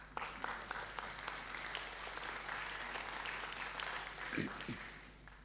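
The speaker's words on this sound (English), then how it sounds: "Applause, please." Faint, distant audience applause at an academic symposium's welcoming session, a continuous patter of clapping over a low hum, with a brief voice near the end.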